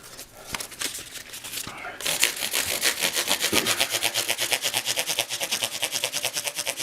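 1000-grit sandpaper rubbed up and down a guitar neck across the frets, fast rhythmic scratchy strokes close by, starting uneven then settling into a steady even back-and-forth rasp.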